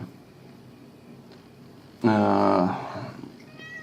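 A voice imitating a cat's meow, one loud drawn-out call with a rising-falling tone, following quiet talk about fighter formations in a flight game.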